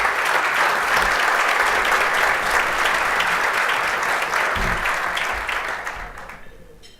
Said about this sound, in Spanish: Simplemente un fuerte aplauso para el ministro Ernesto Murro